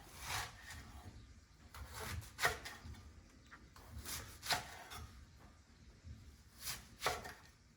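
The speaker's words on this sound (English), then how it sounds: "Then after you cut it in half, cut them into wedges about 3/4 to an inch thick." A knife slicing halved radicchio into thick wedges on a cutting board, giving several separate crisp chops spaced a second or two apart, close and moderately quiet.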